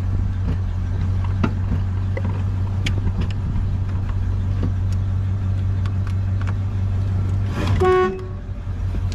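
1972 Pontiac LeMans Sport with its engine idling steadily under some light clatter, then a short horn honk near the end, close by and clear.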